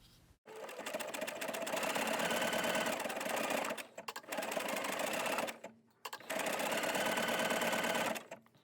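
A sewing machine stitches in three sustained bursts, understitching fabric on the underside of a pocket on a maxi jogging skirt, loud and close with brief pauses between runs.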